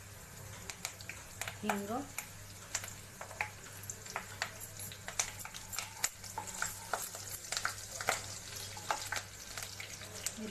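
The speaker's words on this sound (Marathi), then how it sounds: "तेल तापलंय, त्यात कढीपत्ता घालूया" Curry leaves and asafoetida sizzle and crackle in hot oil for Kolhapuri kat vada, a steady frying hiss with sharp spattering pops throughout, while a voice speaks briefly over it.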